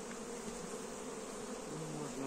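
Honeybees buzz at an open hive during a pre-winter inspection, a dense continuous drone close by with no talk over it.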